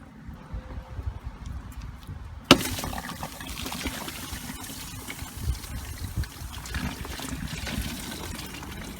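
Water drains and trickles during a coolant flush on a Suzuki GSXR motorcycle, quiet at first, then a sudden splash and a steady pouring flow that continues to the end.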